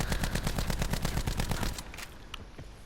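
Rampart 17 with grip fired in a video game: a rapid automatic burst of evenly spaced shots for nearly two seconds, loud and close, then stopping into quieter background with a faint click.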